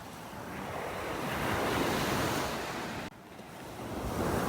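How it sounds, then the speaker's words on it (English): Ocean waves roll onto the shore at a beach in North Naples, Florida, a steady loud wash of surf under strong wind buffeting the microphone, with one brief drop before the roar builds again. "Boy, there's some nice waves coming on shore here"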